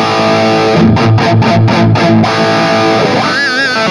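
Heavily distorted electric guitar played through a Mooer Radar cabinet simulator, a run of loud, rhythmic chugging chords that gives way to a sustained ringing note with wavering vibrato, heard alone.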